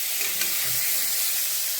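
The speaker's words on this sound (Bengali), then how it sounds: "বেগুনটা এখন ভাজতে দেবো একটু হলুদ আর একটু লবণ" Eggplant pieces fry in hot oil with turmeric and salt, giving a steady, even sizzle that stays close and fairly quiet throughout, with no voices.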